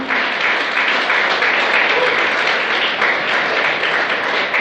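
A church congregation applauds together in a dense, steady wash of clapping that holds evenly throughout the short burst.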